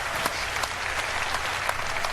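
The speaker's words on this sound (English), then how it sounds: "Let people clap on camera." Audience applause at EA's E3 2016 presentation, a steady dense wash of many hands clapping at moderate distance, with no voices standing out above it.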